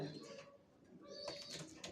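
Pigeons in a loft holding young racer pigeons give soft, low cooing calls. The calls are faint and distant, and a person talks over them.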